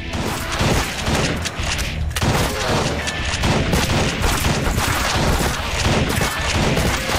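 Rapid-fire gunshots from the top-down shooter game Crimsonland form a dense, continuous burst of loud gunfire and impacts that runs throughout without pause.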